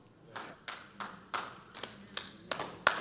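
Slow, sparse hand claps ring out in a church, about eight evenly spaced claps at moderate volume with no talking.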